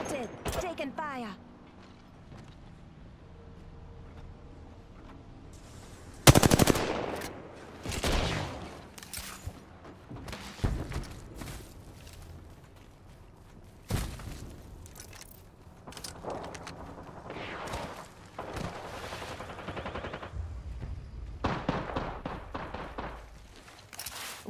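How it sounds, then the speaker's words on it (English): Gunfire in the battle royale video game Apex Legends, heard as several loud, sharp bursts and single shots scattered through the stretch, with quieter mechanical clicks and rattles between them. "Taking fire."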